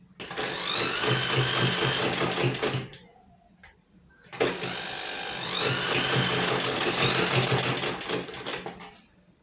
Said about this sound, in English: make them align properly, then you sew. I'm sewing with half inch.